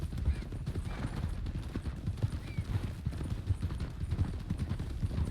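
Horse hooves canter in a rhythmic, continuous clip-clop in the Red Dead RP video game, moderately loud and steady with no talking.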